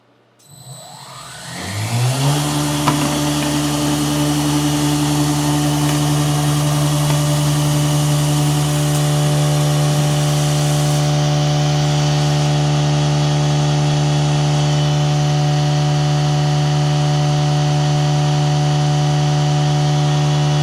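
Milling machine spinning at high RPM while cutting a Predator 212 Hemi engine head, a loud steady high-pitched whine that spins up over the first two seconds and then holds constant and unbroken, without talk.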